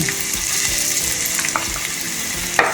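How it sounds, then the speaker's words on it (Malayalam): Ginger and green chillies fry in hot oil for an apple and orange pickle, giving a steady, close hiss of sizzling with a few sharp pops and crackles breaking through. "അതിലേക്ക് നമുക്ക് ഇഞ്ചി ഇട്ട് കൊടുക്കാം കൂട്ടത്തിൽ തന്നെ പച്ചമുളക് ഇട്ട് കൊടുക്കാം"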